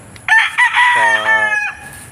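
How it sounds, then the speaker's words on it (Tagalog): A rooster on a gamefowl farm crows once, loud and close, a long strained call rising then trailing off, with quiet background before and after. "yan na lang yung natitirang manok natin dito sa"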